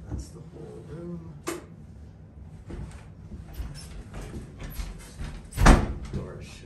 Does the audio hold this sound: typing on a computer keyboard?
no